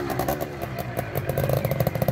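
Small-displacement Fantic 75 trial motorcycle engine at a trials event, steady nearby idle with uneven throttle blips and mechanical clatter running continuously.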